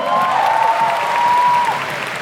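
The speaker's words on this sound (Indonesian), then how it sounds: "Tepuk tangan dong." Audience applause greets the CEO and founder of Ruang Guru at a university orientation event in Indonesia, a steady wash of clapping lasting a couple of seconds with a faint tonal whine over it.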